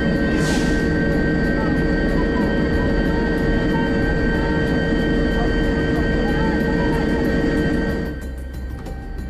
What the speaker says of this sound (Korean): 위급한 상황을 전해 들은 뒤 출발한 닥터 헬기.